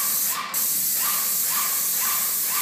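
An airless sprayer sprays Sherwin-Williams CoverMax paint onto an Armstrong ceiling, a loud continuous hiss up close with a faint pulsing whine repeating about every half second.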